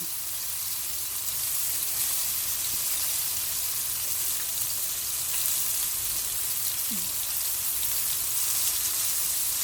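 Battered shrimp deep fry in hot oil for chili shrimp, a steady, dense sizzle and crackle that continues evenly throughout without pause.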